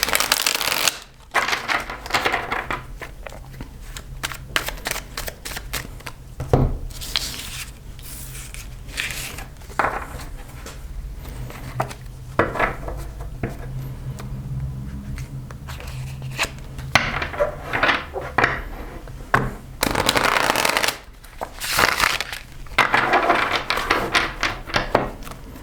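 A deck of tarot cards shuffled in irregular bursts of riffling and soft slaps, close and fairly loud, with brief pauses between flurries and no talking.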